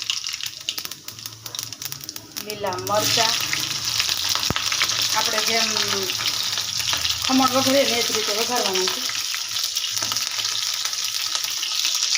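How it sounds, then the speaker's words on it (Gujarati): Mustard seeds and cumin sizzling in hot oil, a loud constant crackling hiss that swells as they hit the pan, with a few clinks and stirring noises and a faint voice briefly underneath. "જો હવે તેલ ગરમ થઈ જાય એટલે આપણે એ રાઈ જીરું"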